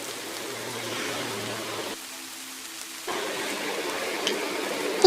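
Steady rain falling, a continuous hiss of drops on surfaces with a brief dip midway, no voices.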